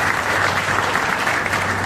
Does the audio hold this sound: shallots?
no